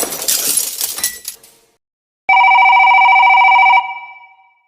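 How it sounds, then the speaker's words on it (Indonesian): A telephone rings once in a single sustained electronic trill lasting about a second and a half, loud and close, following a crash of breaking glass that fades into silence. "Telepon itu datang di pagi hari."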